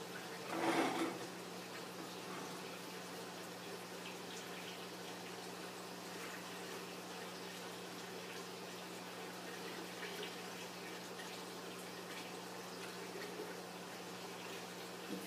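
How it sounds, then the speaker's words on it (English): Wild grape juice is poured into jars as a faint, continuous trickle and slosh of liquid with a low steady hum beneath and a brief louder clatter near the start. "Fill the jars up."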